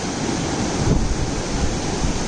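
Ocean waves breaking and washing onto Seven Mile Beach in Negril, Jamaica, a steady loud roar of surf with a swell in the middle, mixed with wind buffeting the microphone, no voices.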